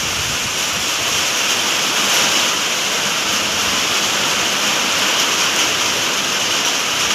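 Steady rain pours down outside on a cloudy day, a dense continuous hiss without pause, with a person talking faintly over it.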